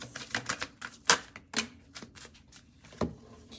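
Tarot cards being shuffled by hand, heard as a quick series of sharp riffling clicks and snaps with short pauses between them. The sound is close and crisp, with no speech.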